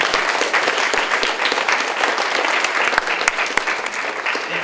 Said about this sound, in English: Round of applause for Ms. Lucas.